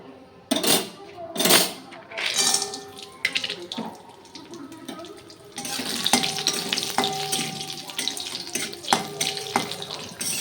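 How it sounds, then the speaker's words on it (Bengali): Papad frying in hot oil in a home kitchen, a steady hiss and crackle running through the clip with clinks of utensils, the sizzle growing denser in the second half. "কয়েকটা পাঁপড় ভাজবো"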